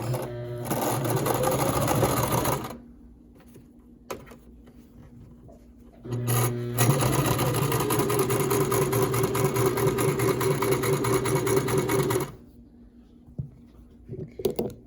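Sewing machine stitching a homemade fabric face mask, running in two sustained bursts of steady mechanical whirring, loud and close, separated by a brief pause with quiet handling sounds.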